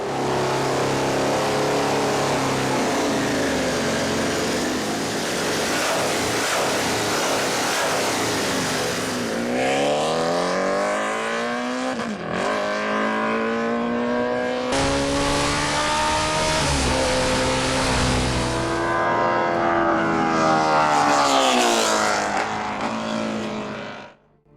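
The MotoCzysz C1 superbike engine runs loud and close, holding a steady high roar before revving up and down in repeated rising and falling sweeps.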